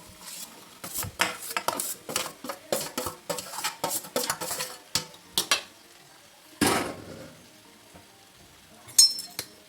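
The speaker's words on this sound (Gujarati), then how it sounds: "હવે એમાં આપણે તૈયાર કરેલો મસાલો એડ કરી દઈશું અને પછી આ બધાને સારી રીતે આપણે મેશ કરી લઈશું." Vegetables being mixed and mashed with a prepared spice masala in a home kitchen, heard as a steady run of close utensil clinks and scraping stirs against a pot, with a louder clatter near the end and no talk.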